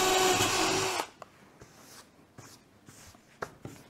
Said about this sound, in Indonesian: Kita bor dulu ya bagian tengah dari lingkarannya.